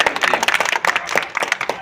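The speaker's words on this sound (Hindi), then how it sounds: "जबरदस्त ताली बजाओ।" An audience at a product demonstration claps loudly and continuously, with dense, overlapping hand claps that fill the whole moment.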